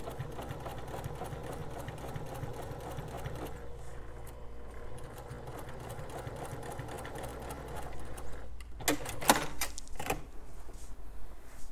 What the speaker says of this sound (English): Just go ahead and sew straight across.